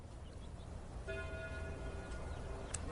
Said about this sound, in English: At that moment, the church bells began to ring.